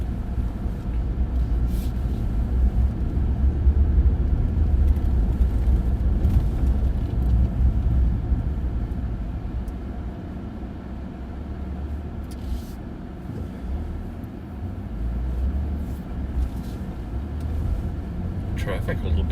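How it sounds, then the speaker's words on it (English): A car drives through busy traffic in a small border town, with a steady low engine and road rumble inside the cabin while someone talks over it. "Traffic a little busy here in this little border town today."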